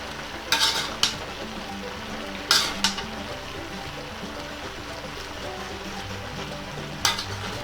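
Lumpia filling with bean sprouts sizzles in a pan as it is stirred, a steady close frying hiss broken by a few sharp scrapes and clinks of the utensil against the pan.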